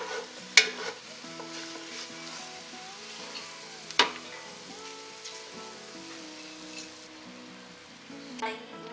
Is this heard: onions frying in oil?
yes